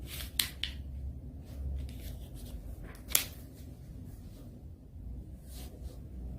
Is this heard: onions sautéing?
no